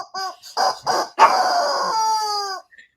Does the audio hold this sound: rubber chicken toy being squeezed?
yes